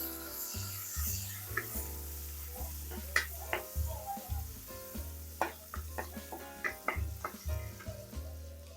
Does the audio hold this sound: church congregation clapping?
no